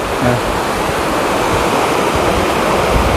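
A stream of water flows steadily, a loud and continuous rushing wash up close with no pauses, filling the whole clip.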